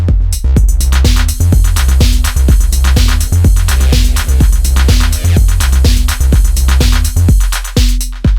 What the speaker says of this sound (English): just a very simple techno beat